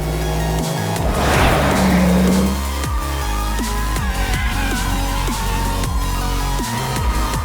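A test car on Goodyear tires is driven through hard handling manoeuvres, with a loud, steady engine roar, shifting revs and tire noise as it passes close by, all without any talking.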